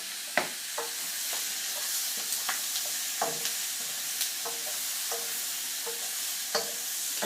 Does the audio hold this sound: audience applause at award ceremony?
no